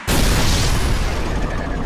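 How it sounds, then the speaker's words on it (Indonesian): A building in an anime explodes in a sudden loud, broadband roar that bursts in at once and stays dense and sustained, slowly easing off. "Sampai-sampai bangunannya meledak anjing."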